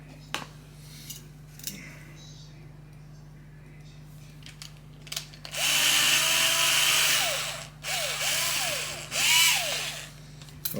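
A power drill whirs steadily for several seconds, bites into soft aluminum with a rising whine, then winds down in short bursts, close by with no talking.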